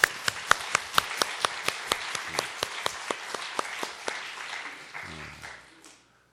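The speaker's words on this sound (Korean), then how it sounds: "우리 찬양대 위에서 격려의 박수 한번 다시 보내주세요." A church congregation applauds the choir in steady, evenly spaced claps that ring out clearly at a moderate distance, then thin out and fade to silence.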